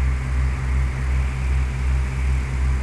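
Steady droning propeller engine of a Cessna 172SP Skyhawk in the Flight Simulator 2004 game, flying a landing approach at about 75 knots with 10 degrees of flaps; a constant, loud low hum with gentle pulsing and no talk.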